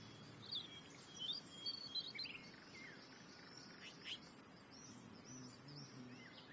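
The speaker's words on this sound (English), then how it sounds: "Oh my god, that is a lot of birds." Many birds chirp and tweet in a courtyard in the video game Life is Strange, with faint scattered high calls over a low, steady ambient bed and soft insect-like buzzing.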